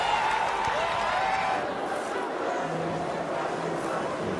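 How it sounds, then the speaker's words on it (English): A cricket crowd at a one-day international in South Africa applauds a batsman's century: steady, broad clapping and cheering from a large stadium audience, continuous and fairly even, with faint whistles riding on top. "He's applauded. The crowd goes wild."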